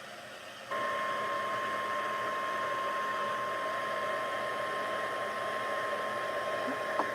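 A heat tool switches on and blows a steady, loud whooshing hum while melting clear embossing powder on a card, running unbroken for several seconds with no talk.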